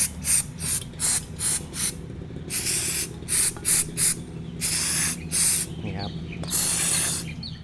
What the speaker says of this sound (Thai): อันนี้ก็จะเป็นสเปรย์ฉีดลิ้นเร่งนะอ่ะเนี่ย ก็ลองฉีดดูว่า มันจะสะอาดไหม